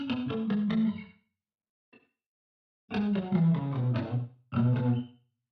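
An added guitar track with phaser and distortion effects in a music production, heard as a few bursts of harmonically rich, sustained chords separated by brief silences, up close and alone.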